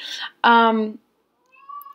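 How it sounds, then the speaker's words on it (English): Pet cat indoors giving one clear, loud, drawn-out meow up close, preceded by a short soft sound and followed by quiet, with faint noises at the end. "Sorry, guys, my cat."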